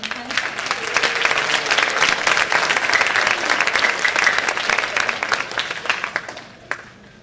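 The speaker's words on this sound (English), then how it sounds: "Can we give a big round of applause for Ms. Hennessy?" Audience at a school spring concert breaks into sustained, full applause for a chorus leader, steady and loud for several seconds before tapering off at the end.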